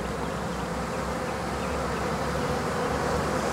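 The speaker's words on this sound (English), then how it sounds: "there are a bunch of bees on the backside of this fence." Dense, steady buzzing of a honey bee swarm gathered on the back side of a backyard fence, a continuous close hum at even loudness with no voices.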